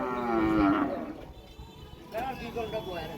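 A cow gives a long, low moo close by at a cattle market in Chauara, Comilla, Bangladesh, and another fainter moo follows as people talk nearby.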